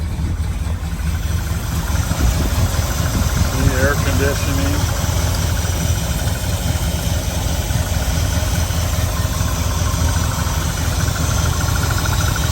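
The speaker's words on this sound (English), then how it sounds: "Let's take a listen to the engine." A 1980 Ford Bronco's 351 V8 engine idles steadily with a low, constant rumble and slight vibration throughout, while a person briefly speaks over it.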